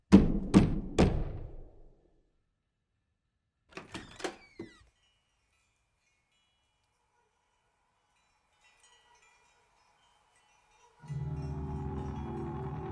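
Knocking at a door in The Babadook: three loud, close raps, then a quieter group of three knocks after a long silence. A low drone rises near the end.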